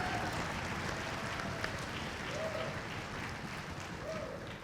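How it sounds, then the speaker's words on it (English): Steady applause from a concert audience after an honor orchestra performance, a dense, continuous patter of clapping filling the hall at even loudness throughout, with no voices standing out. "let's give Ben another round of applause for that great performance."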